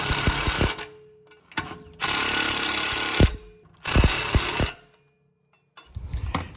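A 9/16 inch socket tightens the U-bolt on a Jeep Gladiator during a lift kit install, giving short bursts of dense ratcheting and mechanical noise with a few sharp knocks, split by brief pauses and a quiet gap near the end.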